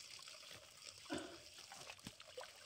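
Dirty water drains from a hose at a pig farm, a faint, short run of splashing and trickling with a brief louder splatter in the middle.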